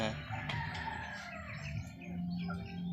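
Chickens and a rooster in a rural province yard cluck and crow close by, a busy stretch of overlapping bird calls with faint background noise.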